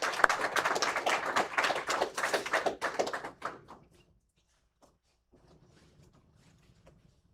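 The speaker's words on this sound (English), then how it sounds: "So please give her a round of applause." Audience applause at a National Reconciliation Week morning event, a burst of many hands clapping that fades out after about four seconds, leaving near silence with a few faint bumps.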